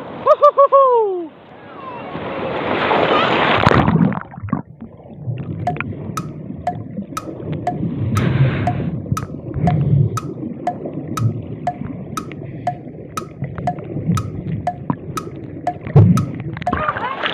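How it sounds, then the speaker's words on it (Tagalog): Strong ocean waves slosh and roar around a small boat, a loud, continuous wash with wind buffeting the microphone and excited voices calling out over it. "Sorry, ang lakas kasi ng alon."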